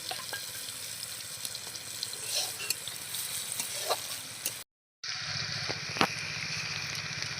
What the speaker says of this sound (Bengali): এরপর আমি ফোড়ন দিচ্ছি